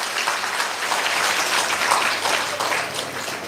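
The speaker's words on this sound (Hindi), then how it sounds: "ताली बजा दो एक बार।" Audience at a Shiv Ratri festival gathering claps steadily, a dense continuous wash of applause lasting several seconds without pause.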